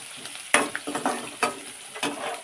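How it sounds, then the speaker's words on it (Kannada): Onion tipped into hot oil for upma sizzles sharply, followed by several brisk stirring scrapes and spatula taps over a steady frying hiss, close and fairly loud. "ಆಮೇಲೆ ಉಳ್ಳಾಗಡ್ಡಿ ಹಾಕ್ಕೊತಿದ್ದೀನಿ"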